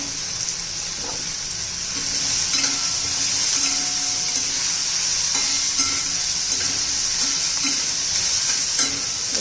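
Green peas frying in oil in a pan and being stirred, a steady close sizzle with a continuous hiss and soft scraping stir strokes running throughout, no voices.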